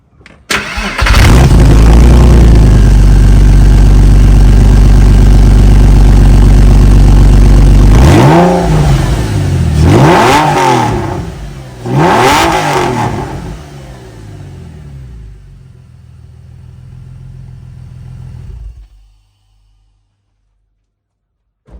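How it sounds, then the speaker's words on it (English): A Porsche 996 with its silencers removed fires up with a loud, raw roar, holds a high idle, snaps through three sharp revs, then settles lower before shutting off. "I've got the silencers off, so let's fire it up"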